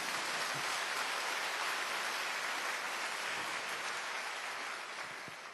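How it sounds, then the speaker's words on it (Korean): A church congregation applauds during a sermon, a dense and steady wash of many hands clapping that holds evenly throughout and fades slightly toward the end. "남의 일이라 그러지 말고 박수 좀 치소."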